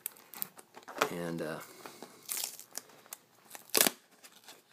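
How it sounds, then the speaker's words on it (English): Hot Wheels Killer Bee toy car packaging is cut open with scissors, giving bursts of plastic crinkling and crackling with sharp snips, while a person speaks briefly. "So why don't we unwrap the killer bee and check her out?"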